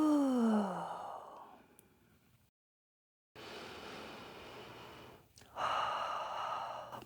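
Deep breathing during a yoga session: a long, audible exhale at the start fades out, a moment of silence follows, then soft, airy breaths resume close by.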